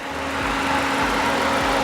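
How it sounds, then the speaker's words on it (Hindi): A used car idles with its air-conditioning fan switched on, giving a steady, close engine hum with a faint even whirr layered on top. No one speaks. "एसी का फ़ैन चालू हुआ है"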